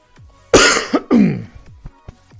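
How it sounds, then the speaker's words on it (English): Two harsh, close coughs and throat-clearing right into a microphone, loud bursts separated by a brief pause, followed by a few faint clicks. "I'm sorry about coughing into the mic."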